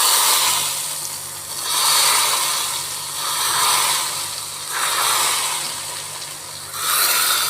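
Hot tempering oil is poured onto homemade lemon pickle, giving a steady sizzling hiss that swells and fades in several waves over a constant low hum, with no one talking.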